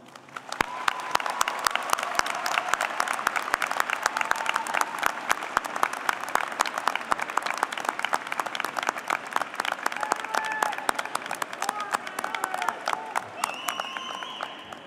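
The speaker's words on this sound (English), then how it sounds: "Let's salute them with our applause." An audience applauds at a spring college of education commencement ceremony, a sustained, fairly distant wash of many hands clapping that continues evenly for the whole stretch, with faint voices mixed in.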